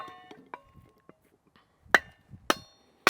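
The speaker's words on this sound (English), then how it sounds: "I'm letting the hammer do all the work" Sharp metallic hammer strikes on a kindling cracker splitting small firewood pieces, a few lighter taps followed by three loud, evenly spaced ringing blows with quiet gaps between.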